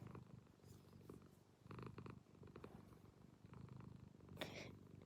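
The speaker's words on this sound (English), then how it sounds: "listen to that purr." A British Shorthair cat purrs softly up close in a quiet indoor setting, a faint continuous rumble broken by small rustling handling noises.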